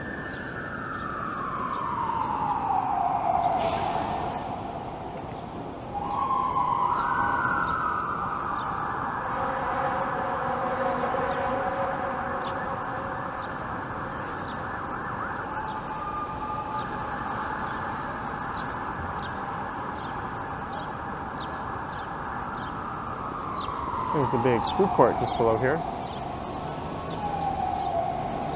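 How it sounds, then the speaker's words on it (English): Fire engine sirens wail past on a downtown Toronto street in the financial district, loud rising and falling tones sweeping through steady city noise, with brief talk over them. "A lot of fire engines roaring by on front."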